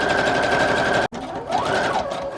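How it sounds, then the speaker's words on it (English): A sewing machine stitches across a paper junk journal page, a close steady whirring hum that breaks off briefly and then restarts, its pitch rising and falling. "I did decide to go ahead and just sew across."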